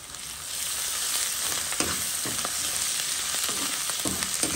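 Onions with a pinch of salt frying in a pan for a river shrimp rougail, a loud steady sizzle swelling after a moment, with the scrape and clatter of a utensil stirring several times, close and without voices.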